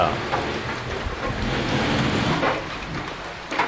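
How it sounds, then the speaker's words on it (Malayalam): Cold wind and rain sweep through Periyar forest as a dense, continuous hiss of rainfall with gusty rushing, steady and loud throughout with no pauses. "നല്ല തണുപ്പ് കാറ്റ് മഴ"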